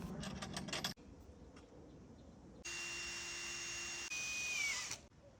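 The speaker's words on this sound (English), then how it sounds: "we're gonna take the hooks and start to screw these in" Hooks are screwed into wooden pieces with a power driver: a short rattling burst, then a steady, loud high-pitched motor whine that rises briefly before cutting off.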